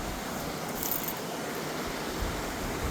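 Loud, steady rushing water at Klepzig mill fills the scene outdoors, a broad continuous roar with light wind buffeting and no voices.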